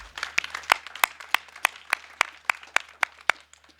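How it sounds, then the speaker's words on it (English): Applause from the audience at a World Breast Cancer Day event: a short run of crisp, evenly spaced claps that thins out toward the end, with no talking over it. "all of us should give you a big round of applause"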